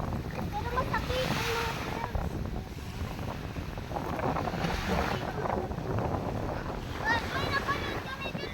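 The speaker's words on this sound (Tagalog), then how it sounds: "Ganda ng hangin." Strong sea wind buffeting the microphone on a beach with waves, a steady roaring rush that swells and eases, while people talk and shout faintly beneath it.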